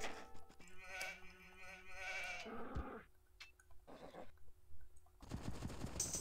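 Sheep bleat amid clattering game effects and bursts of combat noise in the video game Age of Empires II, with the calls coming in short, moderately faint bursts.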